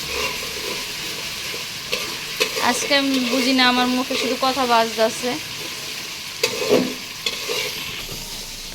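Ginger and rice frying in hot oil in a home kitchen pan, a steady sizzle with scraping stirs, while someone talks over it in the middle and the frying carries on alone around her.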